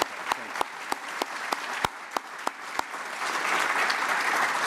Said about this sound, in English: Let's give Krishnan a big round of applause.